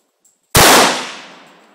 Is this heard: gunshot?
yes